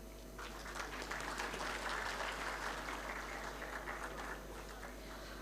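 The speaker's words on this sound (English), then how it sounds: "Please join me in giving a warm round of applause to our esteemed awardees." An audience applauds awardees at a nephrology society award ceremony, with steady, moderately distant clapping that rises quickly and continues evenly over a constant low hum.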